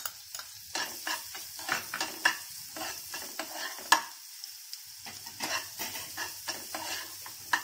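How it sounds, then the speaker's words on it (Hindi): Finely chopped onions sauté in a tablespoon of oil, giving a steady sizzle broken by repeated scrapes and stirs of a spoon against the pan. The stirring is close, and the brief clatter of cookware comes through clearly. "फाइनली चॉप अनियन को सौते करेंगे"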